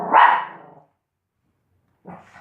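A pet dog in a home gives one loud, close bark, then falls silent before a second, softer bark or yip near the end.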